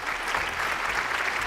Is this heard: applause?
yes